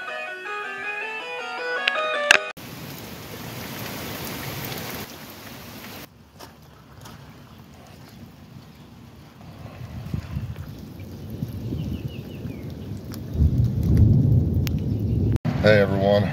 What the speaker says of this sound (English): let's just hope and pray that this storm don't get too crazy